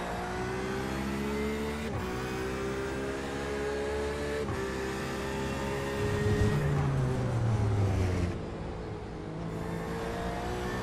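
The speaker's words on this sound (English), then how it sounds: "Pushing the Porsche to its absolute limits here" A Porsche GTE race car engine roars in iRacing, a sustained high-revving whine with gear shifts and pitch swings as the car is pushed hard, loud and close, with other cars faintly audible.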